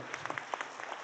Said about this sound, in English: can we have a round of applause for all the 5 wonderful startups?